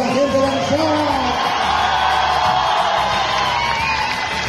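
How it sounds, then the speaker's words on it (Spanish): A large crowd in Orizaba, Mexico roars and cheers continuously for a performer, with whoops and shouts in a dense, loud wash of voices. "¿Cómo se escucha el aplauso a la gente de la ciudad?"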